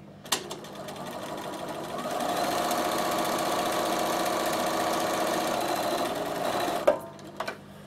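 A Bernina sewing machine stitches at close range, a steady whirring hum of needle strokes that starts after a few clicks, runs evenly for several seconds, then stops with sharp clunks.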